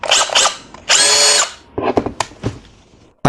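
A Makita DDF083 cordless driver whirs in several short bursts, a loud close motor whine revving up and down with brief pauses and clicks between runs.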